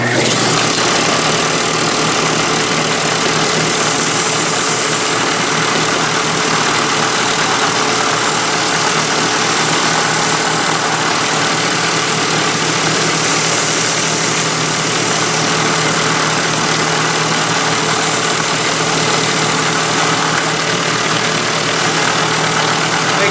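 A loud, continuous belt sander roar with a broad hissing grind on wood runs unbroken and close, steady in volume the whole time.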